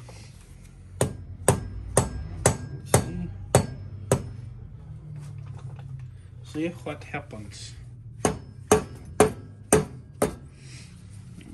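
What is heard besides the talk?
hammer striking motorcycle engine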